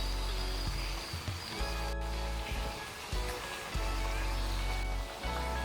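Kerala bitter gourd curry with coconut milk simmers on low heat in a pan, giving a steady, soft bubbling hiss throughout with no talking.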